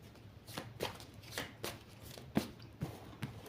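Oracle cards being shuffled and cut by hand, soft papery riffles and flicks repeating in quick bursts, close and fairly quiet with no talk.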